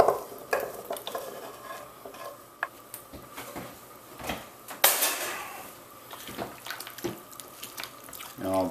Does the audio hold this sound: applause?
no